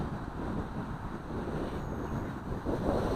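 Outdoor wind buffets the microphone during an XK K130 RC helicopter flight, a steady low rumbling roar that lasts throughout with no clear motor tone and no talking.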